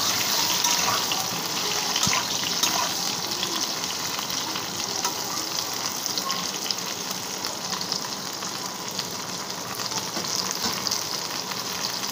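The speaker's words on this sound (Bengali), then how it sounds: "আর একটু তেল দিয়ে দিয়েছি কড়াইতে। আলু পটলগুলো একসাথেই ভেজে নেব সব।" Pointed gourd (potol) fries in oil in a kadai, a dense, even sizzle that holds close and loud throughout with no talking.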